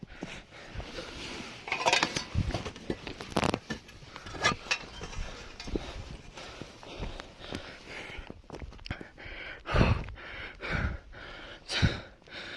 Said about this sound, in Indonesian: Suara napas saya bisa terdengar jelas